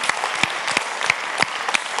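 Steady crowd applause honoring the late founders of the band at the MilleVoci 2021 concert, dense continuous clapping with sharp individual claps standing out, no voices.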